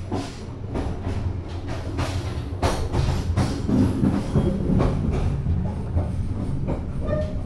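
KA Kertajaya passenger train traveling from Jakarta to Semarang, a loud continuous rumble of carriages with rhythmic clickety-clack of wheels over rail joints, heard from inside the moving train.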